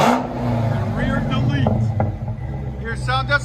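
A Dodge Challenger SRT Hellcat 6.2L V8 rumbles low and steady, heard from inside the cabin, with Super 10 mufflers and rear delete, the exhaust revving up briefly near the end.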